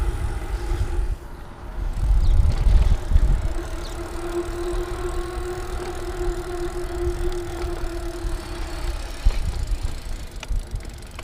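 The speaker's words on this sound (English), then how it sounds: "I'm gonna slow down and see how the motor performs." Motor of an Emazing Apollo electric bike while riding over grass and small hills, a steady mid-pitched whine held for several seconds over rumbling wind and tire noise, with a brief rougher surge near the start.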